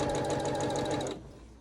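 Sewing machine stitching a quarter-inch seam on a barn star quilt block, a close, rapid rhythmic whirring run that stops abruptly after about a second, leaving quiet room tone.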